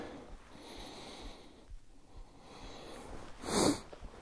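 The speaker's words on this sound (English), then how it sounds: "I hate the sniffles, but you can't really help it when it's cold like this." A short, sharp sniff or snort near the end, loud and close, after quiet breathy background.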